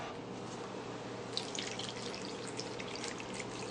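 V8 juice poured from a can into a soup pot for vegetable beef soup, a soft steady liquid trickle that grows more splashy midway, close and unbroken by speech.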